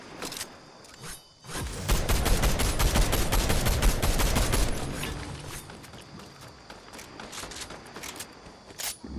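Rapid bursts of gunfire in the video game Fortnite, loud and dense through the first half, then tapering into sparser shots and faint clicks.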